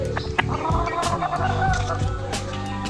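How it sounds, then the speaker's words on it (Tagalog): A chicken clucks and squawks up close in short, uneven bursts, with some faint background voices. "Ang cute ng manok na to."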